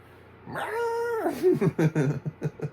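A drawn-out cat yowl rises and wavers for nearly a second in the 1989 horror film Pet Sematary, then breaks into several shorter, choppier cries, close and loud with nothing else over it.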